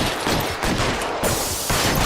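Rapid bursts of gunfire in the L.A. Noire video game, loud close volleys of shots arriving in several clustered waves over two seconds, with no talking.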